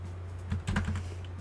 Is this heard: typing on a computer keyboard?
yes